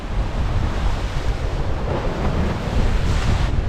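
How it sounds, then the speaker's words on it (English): Wind and waves in a small sea bay roar continuously, with broadband wind buffeting against the microphone over the steady rush of surf. "So the wind and the waves are both coming in from directly that way"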